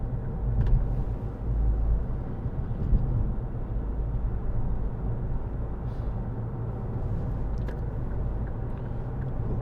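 Steady low engine and road rumble from inside a moving 2012 Ford Kuga 2.0 TDCi diesel with Powershift automatic and four-wheel drive, continuous and fairly loud, with no talking.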